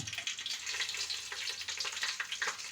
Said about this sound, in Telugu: ఆయిల్ వేగాక మసాలా దినుసులన్నీ వేసుకోవాలి.